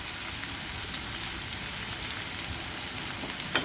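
Onion, garlic and ginger frying in oil in a home kitchen, a steady close sizzle and crackle with no talking, ending in one small sharper pop.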